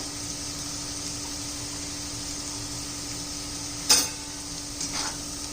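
Spices sautéing in oil for a black bean curry give a faint, steady sizzle with a soft clink of a utensil partway through.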